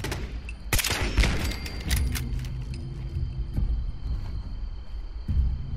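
Automated turret firing in Fallout 76, a burst of sharp shots near the start followed by scattered gunfire and rumbling game noise that runs on, with a fresh thump near the end.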